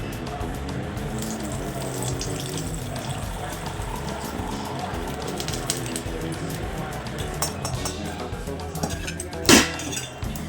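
Boiled lemon peel oil strained from a pan into a container, with soft liquid pouring and trickling close by, a few faint clinks of utensils, and a sharper clink near the end.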